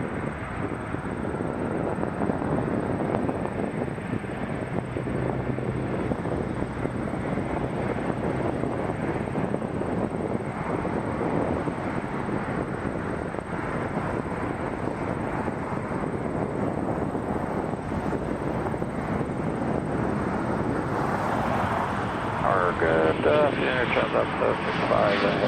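An Air Canada Airbus A330 heavy jet arrives at Toronto Pearson, a steady, broad engine roar that holds throughout at a distance, with talk over it.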